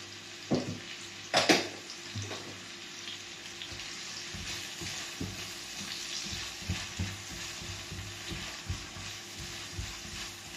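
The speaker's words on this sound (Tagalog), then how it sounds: "I-melt lang po natin ng konti itong sibuyas natin." Onions fry in a pan with chicken cubes and salt, giving a steady soft sizzle with a few louder clinks and stirring scrapes near the start and light tapping of a utensil throughout.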